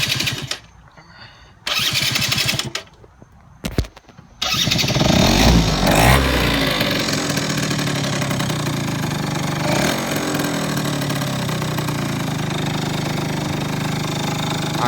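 A Yamaha Zuma YW50 scooter, its pilot jet just serviced, cranks in short bursts, catches and settles into a steady, fairly low idle, loud and close with no talking.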